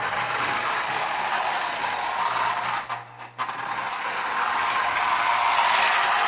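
A Marx O-27 toy train runs on a three-rail layout with a steady, whirring mechanical buzz and clatter. It drops away briefly midway, then continues loud and close.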